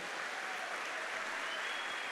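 Church congregation applauds in a continuous, even roar of many hands clapping at once, steady from start to finish.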